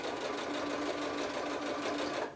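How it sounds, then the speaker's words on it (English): Sewing machine stitching fabric slowly for a headband, a close, even mechanical whir with a steady needle rhythm that stops at the end. "We're going to take our time and sew slowly so that way we can control the fabric and how fast the needle goes"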